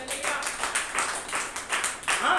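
A congregation at a Sunday church service claps hands in praise, a dense, continuous patter of many hands with a voice speaking over it.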